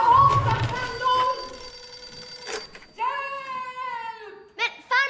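A telephone rings in a children's Christmas series set among the Hedenhös family: a loud, wavering electronic ring pattern repeating with short gaps, following a burst of overlapping voices and shouting at the start.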